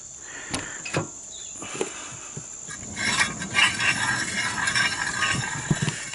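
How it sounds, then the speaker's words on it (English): Brakes scraping on a wheel of a 1983 Honda ATC200 three-wheeler, heard as faint intermittent scrapes and clicks that grow denser and louder in the second half, with no talking. "That scraping sound you hear is the brakes."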